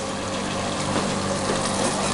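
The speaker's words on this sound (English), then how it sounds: "So I need to drain that water off." Soaking water drained off cut potatoes into a big strainer, a steady loud gushing pour of water throughout, close and continuous.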